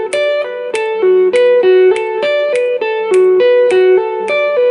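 Electric guitar riff played in 7 with the rest dropped, a clean repeating pattern of plucked notes in a steady, looping rhythm, loud and alone.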